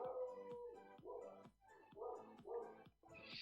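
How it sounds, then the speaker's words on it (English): Several dogs bark outdoors at a distance in a rough repeating rhythm, roughly two barks a second, with a couple of higher yips and a whine toward the end, fairly faint and with no talk over them. "Got dogs barking outside."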